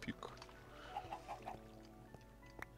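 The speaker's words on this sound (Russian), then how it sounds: "Здесь живет курица." A chicken clucks in the video game Minecraft, a few short, faint clucks scattered through the stretch beneath the game's other low sounds.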